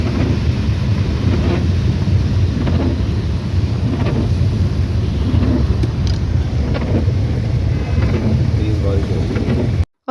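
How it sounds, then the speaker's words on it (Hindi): Very heavy rain pours down in a steady, dense roar, with low rumbles of thunder rolling underneath and a voice faintly audible beneath the downpour before it cuts off abruptly at the end. "बहुत ज़्यादा तेज़ बारिश हो रही थी"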